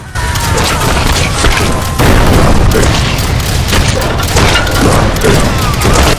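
Gunfire in the VR shooter Guns'n'Stories: Bulletproof VR: loud, booming shots in several heavy bursts, with a continuous dense roar of action between them.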